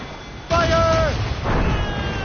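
Ship cannons fire in Assassin's Creed Rogue, heavy booming blasts arriving in two bursts amid battle noise, with a shouted voice layered over the first blast.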